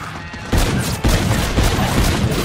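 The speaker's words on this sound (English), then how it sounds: "Concussion grenades" Concussion grenades blasting in a space-themed shooter video game, a burst of heavy booms and rattling gunfire-like bangs, with two sharp loud onsets followed by sustained dense explosive noise.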